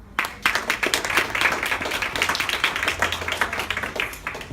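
A Portuguese-speaking congregation claps for the Lord after a testimony, a lively, steady burst of many rhythmic hand claps from a room full of people, loud and sustained for several seconds.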